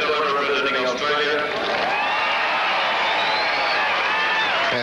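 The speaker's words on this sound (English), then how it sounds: "Crowd's going wild out here" A large roadside crowd roars and cheers steadily at the 1982 Commonwealth Games men's marathon, with a commentator talking over the noise throughout.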